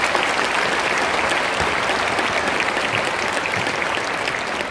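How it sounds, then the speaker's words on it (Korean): Church congregation at an Easter union service in Changwon applauding a pastor, a dense, even roar of many hands clapping that holds steady for several seconds without speech. "우리 회중 여러분께서는 우리 목사님께 한 박수로 감사의 뜻을 해주시겠습니다."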